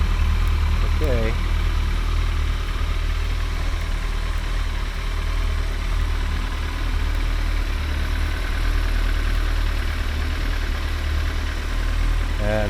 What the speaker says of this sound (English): And this is 2012 ZX14.